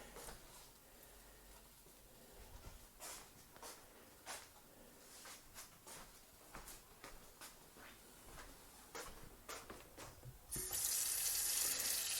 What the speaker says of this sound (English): Wash these real quick.